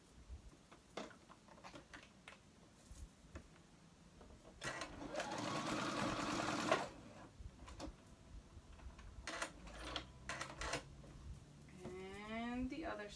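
A sewing machine tacks down the straps of a jumper skirt in short runs of rapid stitching, with one longer burst in the middle. Clicks and handling noises fall between the runs, and it is close and fairly quiet.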